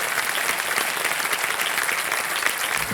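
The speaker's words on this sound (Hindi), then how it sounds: "ऑलराइट भाई साहब, एक बार फिर तालियों के साथ आपका हम स्वागत करते हैं।" A studio audience on a televised quiz show claps in steady, dense applause, loud and close, filling the whole stretch without voices.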